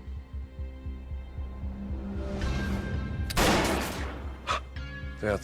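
A gunshot burst cracks out midway, followed by a couple of sharper reports, over a low rhythmic droning background with no talking.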